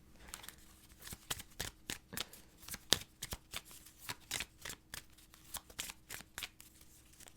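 Tarot cards are shuffled and pulled from the deck in a steady run of quick, crisp riffling snaps, close and fairly soft, with no talking.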